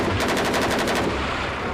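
A machine gun mounted on a Scimitar armoured vehicle fires one rapid burst of about ten evenly spaced rounds, loud and close, then cuts off into ringing rumble.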